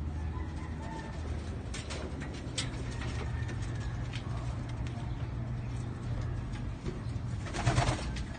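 Pigeons or doves cooing softly in a low steady murmur as they gather to feed on moringa leaves, with occasional faint chirps and rustles against outdoor background noise.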